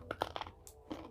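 Crunchy caramel-coated potato sticks are chewed close to the mic, with three quick crisp bites in a row, a brief pause, then another crunch.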